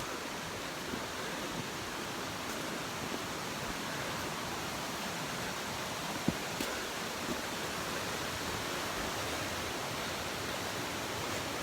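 A waterfall roars near a forest trail as a dense, unbroken rushing wash, steady and fairly loud throughout with no talk.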